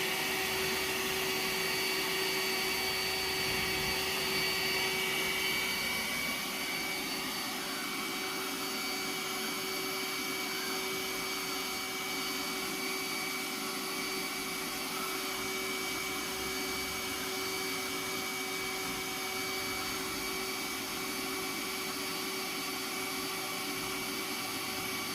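Roomba S9 robot vacuum running over a shag rug, a steady continuous motor whir with a constant tonal hum, close and loud throughout, with no talking.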